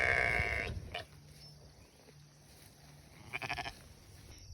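Sheep bleat in an overgrown pasture: one bleat at the start and another a few seconds later, fairly quiet and at moderate distance, with calm outdoor ambience between.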